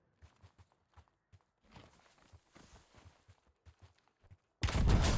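Scattered sharp gunshots in an online shooter video game pop at irregular intervals, some quick pairs, followed by a sudden loud burst of heavy firing at the end.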